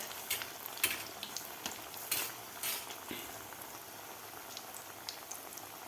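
Potato vadas fry in hot oil as more oil is spooned over the top, a steady close sizzle and crackle with scattered sharper pops and light utensil clinks, no voices.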